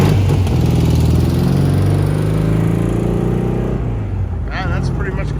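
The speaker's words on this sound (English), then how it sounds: "There goes the Kia." A Kia car pulls away during an evening rollout at the Historic Main Street car show in Garden Grove. Its engine hums low and steady, then shifts as it moves off, close and loud, with crowd chatter underneath.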